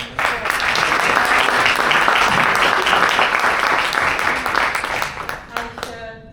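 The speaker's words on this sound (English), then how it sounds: "So a round of applause, please." Audience applause at a live innovation and conversation event: sustained, loud clapping from a crowd lasting several seconds before tapering off at the end.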